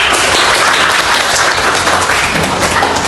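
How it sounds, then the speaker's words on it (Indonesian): A classroom audience applauds steadily after a group performance, a dense wash of many hands clapping at once, fairly loud and close throughout with no pauses. "Oke, tepuk tangan sekali lagi."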